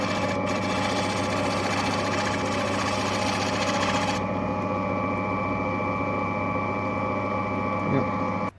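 A lapidary wheel cuts an Andamooka opal with a steady, loud motorised whir and grinding hum that holds constant. It cuts off abruptly at the end.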